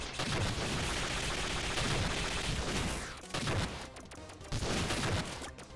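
Dense, continuous gunfire and blasts from the Iconoclasts video game, loud and sustained with brief dips near the middle and end, no voice over it.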